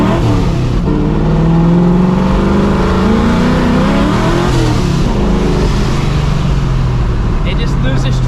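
A cammed and Procharged 1999 Mustang GT accelerates hard from a roll, engine droning loud and steady with rising pitch as the tires break traction, with voices talking over it throughout.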